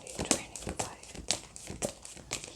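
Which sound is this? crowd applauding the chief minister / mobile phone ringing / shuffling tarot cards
shuffling tarot cards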